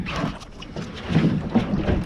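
A sailboat comes about through the wind on the Camel Estuary, with a steady rush of wind and water noise and gusty swells building near the end, and no talking.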